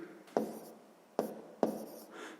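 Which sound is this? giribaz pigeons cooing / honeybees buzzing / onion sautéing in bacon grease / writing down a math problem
writing down a math problem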